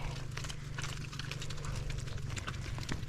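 Quarter horse hooves clip-clopping in a quick, steady rhythm on a hard surface, close and loud over a constant low rumble.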